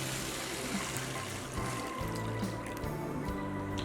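Water is poured into a container of salt to make salt water for a homemade mud battery, a faint steady trickle and splash against a continuous background hiss, with no talking.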